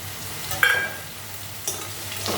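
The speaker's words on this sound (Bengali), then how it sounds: "এখন কাঁচা লঙ্কাগুলি দিয়ে দিচ্ছি।" Whole green chillies dropped into okra frying in a pan, with a steady sizzle and a couple of brief sharper crackles and stirring scrapes, close and fairly loud, no talk.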